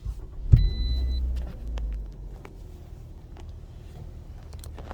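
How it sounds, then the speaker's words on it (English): A 2018 Toyota RAV4 engine starts with a short low thump and rumble, then settles into a steady low idle hum heard close up with no talking. "And now if I turn on my car,"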